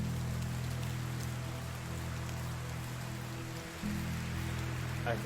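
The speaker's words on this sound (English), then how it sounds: "I think that crunchy crackling noise is actually rain." Rain falling in a wilderness survival video game, a steady soft crackling wash that runs throughout under a low constant rumble, with a brief dip near the end.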